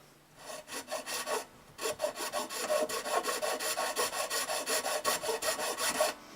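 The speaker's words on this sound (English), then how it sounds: "Like I say, these files are fast." A file rasping down the nut of an Esteban guitar during setup, quick rhythmic back-and-forth scraping strokes in close bursts with short pauses between, no talking.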